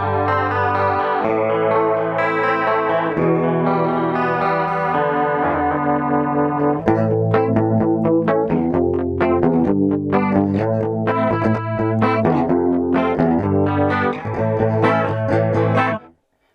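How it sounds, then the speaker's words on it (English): Guitar through a Boss DD-7 delay pedal set to a chorus-like modulation plays a run of chords, then picked, shimmering notes with a lush, wavering, doubled sound before stopping abruptly. "what is considered a very classic chorus pedal"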